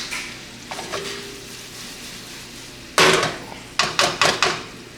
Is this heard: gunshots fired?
no